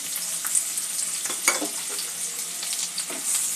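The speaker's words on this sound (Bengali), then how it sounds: "পেঁয়াজটা একটু হালকা করে ভেজে নেব।" Chopped onion fries in white oil in a wok, a steady bright sizzle with a few soft stirring scrapes, close and alone with no talk.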